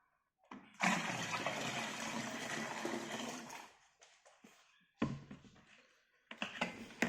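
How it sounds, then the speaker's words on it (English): Cold water pours in a loud gushing stream for Coopers home brew, then stops, followed by two shorter pours after brief pauses, close and alone. "So I'm going to add cold water again."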